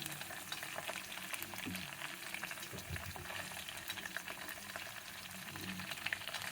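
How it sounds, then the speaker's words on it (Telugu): Coriander and green chilli masala paste fries with onions for a green fish curry, a soft, dense sizzle with low bubbling underneath, continuous and fairly quiet with no talking. "ముందు ఈ మసాలాలు ఫ్రై బాగా వేగాలండి."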